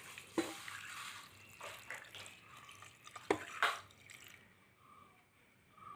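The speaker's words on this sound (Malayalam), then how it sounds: "അപ്പോൾ ഇതിലേക്ക് നമ്മൾ ആവശ്യത്തിനുള്ള വെള്ളം കൂടെ ചേർത്ത് കൊടുക്കും." Water is poured into a bone curry mixture in a kitchen pot, giving soft, faint splashes and trickles with a few sharper drips, fairly quiet and close.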